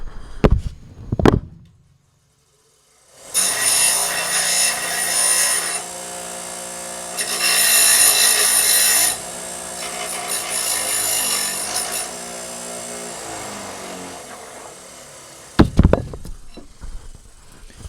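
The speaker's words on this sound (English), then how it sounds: "First, you go straight up against the grinding wheel." Harsh grinding as a metal garden cart pipe end is deburred against a grinding wheel: a few knocks, a silent pause, then a long loud rasping, buzzing grind with surging intensity for about twelve seconds, ending in a couple of sharp clunks.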